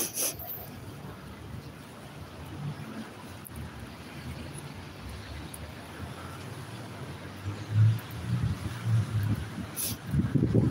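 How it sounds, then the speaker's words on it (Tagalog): Low, rumbling wind buffets the microphone throughout, growing gustier near the end, with faint background noise and no clear speech. "Oh, may hangin."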